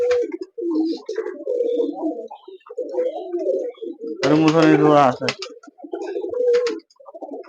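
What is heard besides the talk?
Giribaz pigeons cooing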